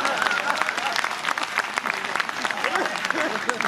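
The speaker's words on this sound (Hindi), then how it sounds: "तालियां अगली पंक्ति पर बजा देना" Audience applause fills the room at a steady, dense level, with crowd noise and some talk mixed in throughout.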